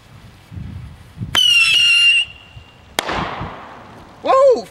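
Homemade fireworks fired from a beer and gas setup launch with a loud whistling squeal, then a sharp pop and crackling burst, followed by another rising screech near the end, with voices around.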